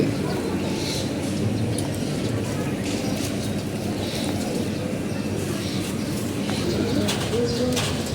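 Pigeons coo in a low, continuous murmur from a loft holding breeding pairs, with a soft wash of background noise and occasional higher chirps.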